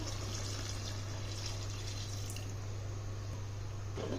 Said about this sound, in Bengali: দিয়ে দেব পরিমাণ মতো পানি